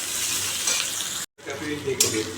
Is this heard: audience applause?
no